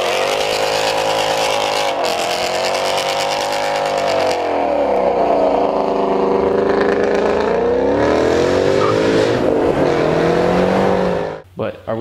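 A 2016 Ford Mustang with wheel hop accelerates hard, its loud, close engine note rising and falling through several revving surges before cutting off abruptly near the end.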